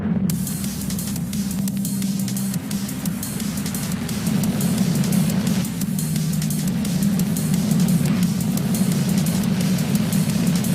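A SpaceX Falcon 9 rocket launching from the Space Coast, a loud continuous roar with a steady low rumble that persists throughout, heard at a distance.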